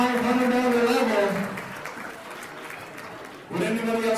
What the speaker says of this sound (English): Let's give that level an incredible round of applause.